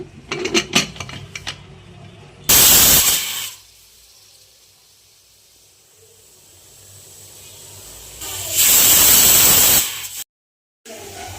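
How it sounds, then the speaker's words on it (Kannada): A pressure cooker cooking chana with turmeric and bay leaves gives two loud bursts of hissing steam whistle separated by quieter simmering, preceded by light rattling clicks. "ಇವಾಗ ಕುಕ್ಕರಲ್ಲಿ ಕೂಗಿಸ್ಕೊಳ್ಬೇಕು"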